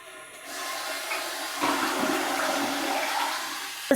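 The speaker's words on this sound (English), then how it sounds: "it takes at least up to 2 gallons of water, two of these babies, just to flush a toilet" A toilet flushing nearby, a sudden rush of water building into a steady gurgling drain that continues alone to the end.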